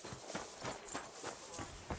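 Faint, rhythmic horse hoofbeats in the video game Kingdom Come: Deliverance II clip-clop at a walking pace, distant and soft, with a light background hiss.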